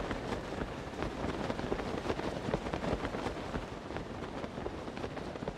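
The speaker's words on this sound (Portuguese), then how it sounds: "a maldita da chuva que continua aqui em Tears of the Kingdom." Rain falls steadily in the video game Zelda Tears of the Kingdom, a soft, constant hiss of countless drops with faint scattered patters and no voices.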